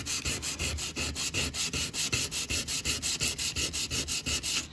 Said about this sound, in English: So I've just got my piece of 200 grit sandpaper here.